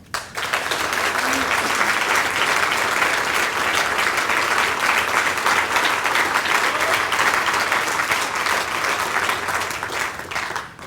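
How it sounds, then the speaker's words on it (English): A sea-cruise audience at a chairman's address breaks into a sustained round of applause, dense and even clapping from many hands that rises quickly and continues for about ten seconds before fading. "please stand up and receive a round of applause"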